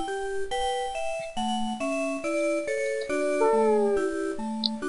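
Synthesized dog sound from the Harvest Moon video game, a run of bright stepped electronic tones rising and falling in a chiptune-like pattern, loud and alone with no talk.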